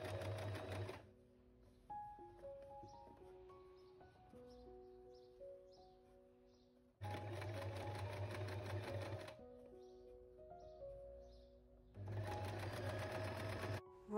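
A sewing machine stitches bias binding onto a shirt sleeve, running in three bursts of fast, steady mechanical whirring separated by quiet pauses in which soft tones and faint handling noises are heard.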